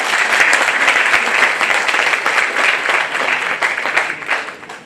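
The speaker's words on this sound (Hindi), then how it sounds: "इनके लिए ताली बजाइए।" A hall audience at a spiritual discourse by Acharya Mithileshnandinisharan breaks into sustained, loud applause, a dense continuous clapping that holds steady for several seconds without talk.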